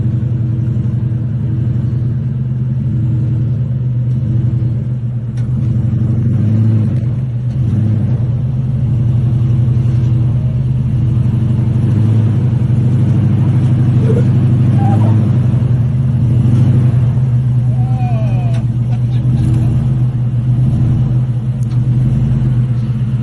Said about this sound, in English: you can hear my awesome V8 rumbling in the background.